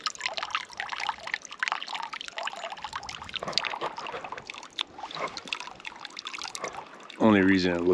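Water trickles and pours steadily from a forest water source beside a rusting pan near a hidden forest cabin, a continuous splashing flow with people talking over it nearby.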